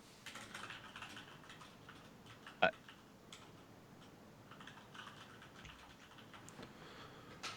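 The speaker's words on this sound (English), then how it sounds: "was typing that in." Computer keyboard typing during a tabletop role-playing game session, a quiet run of soft key clicks with one sharper tap partway through, in a low room background.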